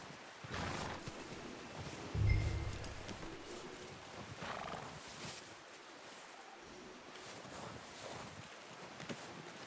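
Horse in the open-world western game Red Dead Redemption 2, with soft hoof clip-clop and a snort over steady outdoor wind noise, moderately quiet and continuous, without talk.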